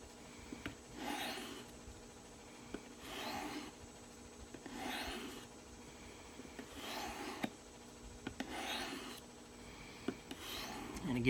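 A knife blade drawn across a diamond stone on a Work Sharp Guided Field Sharpener makes quiet, close rasping strokes in an even rhythm of about one stroke every two seconds, alone without talk.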